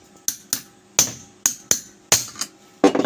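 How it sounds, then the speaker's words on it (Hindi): Sharp metallic hammer blows land on an air blower rotor at an uneven pace, about eight strikes in three seconds, each ringing briefly, close and fairly loud. "इसी तरह इस पर ठोस चोट लगाएंगे।"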